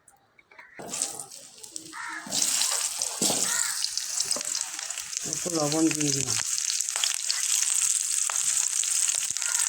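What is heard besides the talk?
potatoes frying in white oil in a kadai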